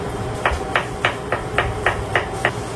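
A knife chops food on a cutting board in a kitchen, striking eight times at a steady, quick rhythm over a constant hiss of background noise.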